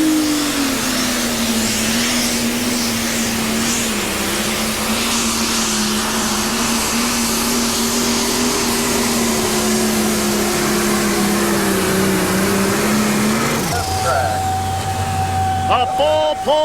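Pro stock pulling tractor in 1997 at Bowling Green, Ohio, engine howling loud and steady through a full pull run, pitch wavering slightly, then dropping off abruptly near the end as an announcer talks over it.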